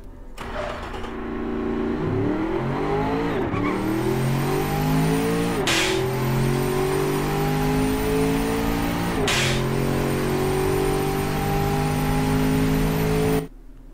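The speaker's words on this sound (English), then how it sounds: "rear-wheel drive coupe with a twin turbo V8" Simulated twin-turbo V8 in a 350-horsepower rear-wheel-drive coupe from the game Automation revs loudly and steadily, pitch climbing through gear after gear with a few sharp shift breaks, alone with no talk.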